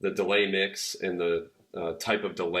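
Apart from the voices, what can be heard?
No everyday noise stands out behind the speech.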